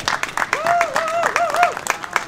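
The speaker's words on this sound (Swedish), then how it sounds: "Man får fortsätta applådera om man vill." Audience applause during an interview and ceremony segment at the Novemberkåsan 2022 event in Bollnäs: a steady patter of clapping throughout, with a voice carrying over it.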